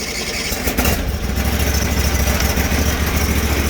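A Sears 6HP lawn tractor engine idles close by, a steady low chugging drone held at an even level the whole time with no voices.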